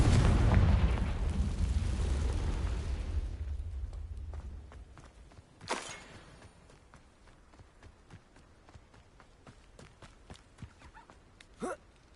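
A Confringo explosive spell cast in the video game Hogwarts Legacy: a loud rumbling blast that slowly fades over several seconds, followed by soft footsteps and a couple of sharp magical zaps.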